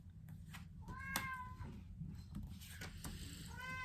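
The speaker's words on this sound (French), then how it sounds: "vous voyez le chat qui se manifeste parce qu'elle n'est pas contente en ce moment" A domestic cat meows repeatedly in displeasure, several drawn-out, rising cries spread through the clip over a low steady background hum, close and clear.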